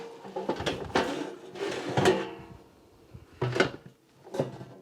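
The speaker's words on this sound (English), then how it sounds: "I'll remove the basket." A non-stick basket slides out of the drawer of a 5.5-litre, 1700-watt Bear air fryer, giving several close hollow plastic clunks and scrapes in uneven bursts.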